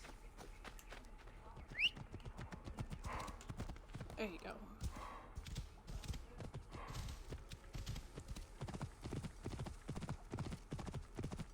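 Horse hooves clip-clopping in Assassin's Creed Origins, a steady rhythmic patter of footfalls over ground throughout, with someone talking quietly over the riding.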